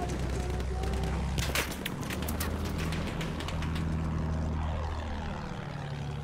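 A bomber's propeller engines drone steadily in Battlefield 1, a loud continuous hum with shifting pitch, while scattered sharp cracks of gunfire break in across the middle.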